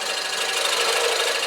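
A wood lathe tool cuts into a spinning wooden box at fairly high speed, giving a loud, continuous rasping scrape that stays close and steady for a brief moment.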